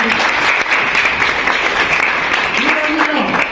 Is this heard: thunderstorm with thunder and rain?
no